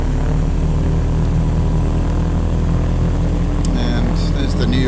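A propeller aircraft engine drones loudly and steadily while taxiing on a runway in the Prepar3d flight simulator near Manhattan, with a low constant hum and brief higher whines near the end.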